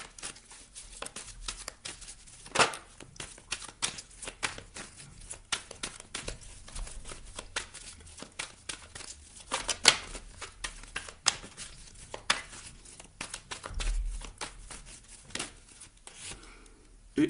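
Tarot cards shuffled and laid out during a French-language reading, giving soft, irregular papery riffles and flicks with a few sharper snaps, fairly close and quiet, with no talking.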